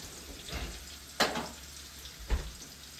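Curry leaves dropped into hot oil in a home kitchen while cooking chicken crackle and sizzle in a few sharp bursts over a faint steady hiss.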